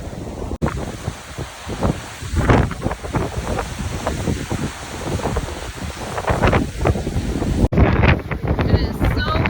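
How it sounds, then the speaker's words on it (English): Strong gusty wind at a waterfall viewpoint in Iceland buffets the microphone in loud, uneven roaring bursts, with some talking mixed in under the rush. "It is so windy up here"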